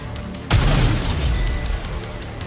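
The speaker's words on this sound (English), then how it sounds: "What are those? Explosives? They appear to be homemade. The explosions aren't stable." A homemade explosive detonates in the video game Goddess of Victory: Nikke with a sudden loud boom, then a rumbling blast tail that fades slowly beneath game sound.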